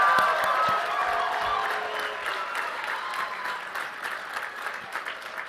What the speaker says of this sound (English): Let's have a round of applause, please, for our Master of Engineering and Biopharmaceutical Processing graduates.